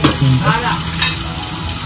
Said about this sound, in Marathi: इथे आपलं सार कोलमीचं उकळत आहे